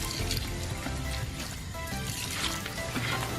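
Water poured into concrete mix for a horse barn build, a continuous splashing, gushing flow, steady and fairly close with no talking.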